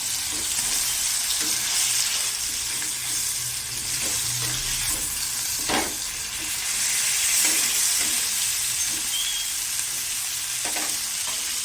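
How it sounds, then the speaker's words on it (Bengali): Hilsa fish nearly done frying in oil, a dense, steady sizzle and crackle with occasional louder spits and faint utensil movement, close and unbroken by speech. "আমার মাছ প্রায় ভাজা হয়ে এসছে।"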